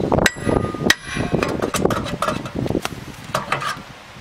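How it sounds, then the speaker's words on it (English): A heavy hammer strikes the rusty wheel-mounting face of a BMW E46 rear hub again and again, loud close metallic clangs in an uneven rapid series, some ringing briefly. "use a heavy hammer here, striking the face where you bolt the wheel to the hub, just to break free any rust"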